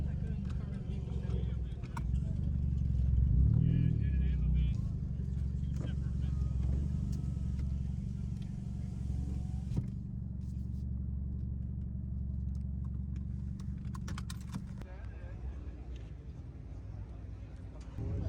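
A four-cylinder car engine idles at a car meet, a low, continuous rumble close by with indistinct voices and occasional clatter over it.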